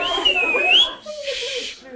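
A teacher's shrill, sliding whistle rises and dips over classroom chatter to quiet an unruly class, followed by a second, steadier whistled tone amid murmuring voices.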